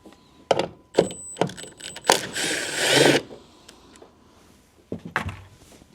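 Plastic pop-in clips on a 2024 Honda Civic Type R tail light let go with a few sharp close snaps and clunks, followed by a longer rattling scrape as the lamp pulls free and some scattered handling knocks afterward.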